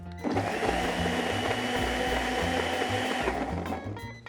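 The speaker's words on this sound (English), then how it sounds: "put it in our blender and we're going to blend everything together" A blender runs steadily for about three seconds blending a mandarin and ginger syrup, with a loud, even whine and low grinding hum, then winds down.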